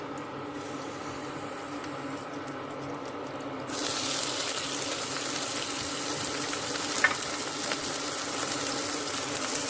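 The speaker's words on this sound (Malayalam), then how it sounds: "വെളിച്ചെണ്ണ ഒഴിച്ചു കൊടുക്കും" Coconut oil goes into a hot pan of mung bean curry, and partway through a steady, close hiss of sizzling begins and keeps going without a break.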